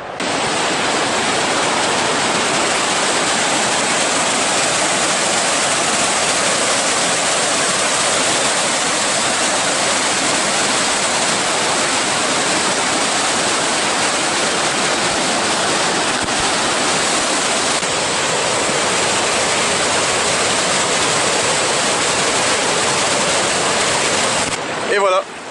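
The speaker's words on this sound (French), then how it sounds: "Et voilà, les chutes d'eau de Tate." Tatai waterfall in Koh Kong, Cambodia, roars as a loud, steady rush of water that fills the whole scene without a break, close and unbroken to the end.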